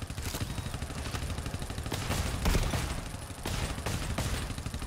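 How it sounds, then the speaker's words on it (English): Shotgun and other gunfire in the co-op horror shooter GTFO, dense overlapping bursts and clattering shots running continuously and loud throughout, with a brief voice underneath. "Shotgun! Get some!"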